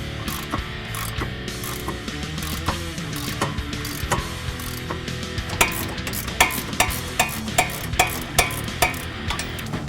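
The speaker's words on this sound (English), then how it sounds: "we're going to remove the brake caliper first to give us more room" A hand ratchet works on brake caliper bolts of a 2015-2022 Ford Mustang, quick clicking pawl strokes near and fairly loud, growing into a steady rhythmic series of sharp clicks toward the end amid shop clatter.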